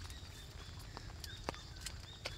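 Slow, small footsteps tread softly through a large garden with big trees on Bhola island, a few faint thuds spaced apart. Birds chirp thinly in the background.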